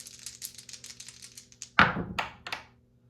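Dice rolled during a Global War 1914 board game, a run of light rapid clicks and rattles followed by a heavier thunk and a few bouncing knocks tapering off.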